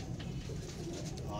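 A pigeon coos softly on a rooftop, its low murmuring calls running steadily through the short stretch against a noisy background with a faint hint of traffic.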